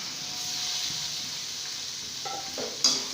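Chicken is added to a pot of onions fried until light brown, giving a steady close sizzle with faint stirring, then a few metal clinks of a utensil against the pot near the end.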